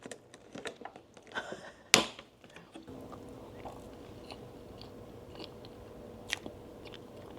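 A bite into a blueberry sponge cake (génoise), a sharp crunch followed by soft, moist chewing, close and fairly loud with quieter rustling after.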